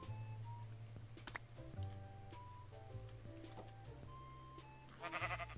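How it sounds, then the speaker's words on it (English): A sheep in the Minecraft video game bleats over steady game background music, with soft ticking clicks and a brief louder burst near the end. "Look, guys, I found a sheep."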